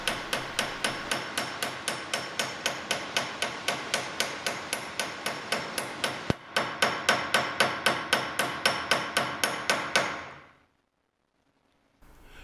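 Steady, rapid blows from a metal-shaping hammer ring on sheet metal, about four a second, continuing evenly for ten seconds before stopping into silence.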